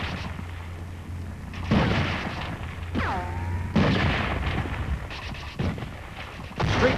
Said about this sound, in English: These are Marines and U.S. 7th Division troops advancing into Seoul under enemy fire.